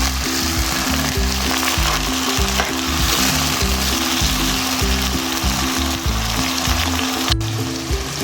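Onions, tomatoes, green chillies and ginger garlic paste fry in a pan with a loud, continuous sizzle, broken by a steady rhythm of scraping stirs throughout.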